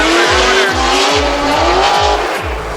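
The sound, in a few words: drift car initiating a drift, tires squealing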